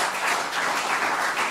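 An audience at a medical-information lecture applauds a panel. The clapping is a steady, dense wash with no break, heard over a short stretch.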